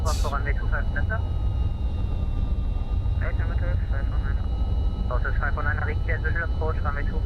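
A simulated MD-11 jet in X-Plane 12 accelerates down the runway on its takeoff roll, producing a loud, steady engine roar and rumble throughout, with a voice talking in short bursts over it.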